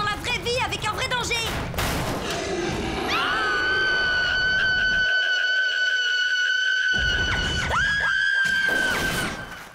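A cartoon character in a French animated paranormal adventure lets out a long, loud, sustained scream amid chaotic noise and other voices, the cry holding steady for several seconds before breaking and rising again.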